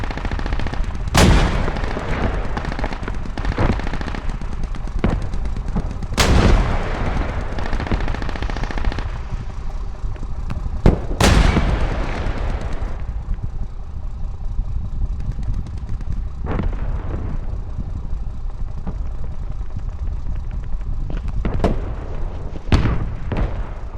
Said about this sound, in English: Rockets inbound, be aware